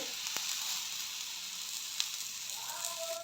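Oil sizzles steadily on bottle gourd dhapate frying on a hot griddle, a close, even hiss with a few faint clicks and no voices.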